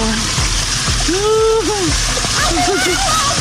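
Water from a fountain splashing steadily into a swimming pool, a continuous close rush that runs beneath excited voices of people talking and exclaiming nearby.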